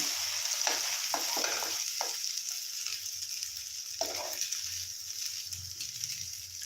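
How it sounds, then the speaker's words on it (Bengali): Square pieces of an egg-based snack fry in a pan with a quiet, constant sizzle, broken by a few short scraping and turning sounds from a utensil. "এক পিঠা ভাজা হয়ে গেছে একটু লাল লাল মতো ভাজা হয়ে গেছে"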